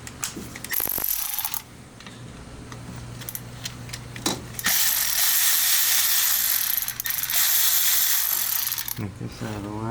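Ratchet loosening a T30 fastener during turbo removal on a BMW G80 M3, heard as bursts of rapid close clicking with one long sustained run in the middle, plus a steady low hum throughout.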